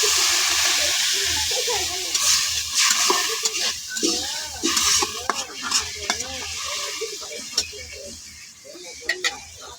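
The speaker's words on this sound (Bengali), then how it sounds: "সামান্য একটু জল দিব এটি সিদ্ধ হবে জলটা দিয়ে নিলাম" Bottle gourd leaves in a pan hiss and sizzle as a little water is added, with repeated scraping and stirring against the pan and bursts of steam, up close.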